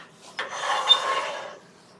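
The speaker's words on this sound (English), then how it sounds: "So now just need to get this sanded" Sandpaper rubbing against a multi-axis turned wood piece on a lathe, a steady broadband rasp of about a second that swells in and fades out, close and moderately loud with no talk.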